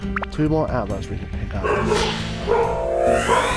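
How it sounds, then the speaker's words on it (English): Dog barking indoors at people knocking on the door, a few sharp barks and yips near the start followed by whimpers, close, mixed with speech and game sounds. "Sorry about the barking."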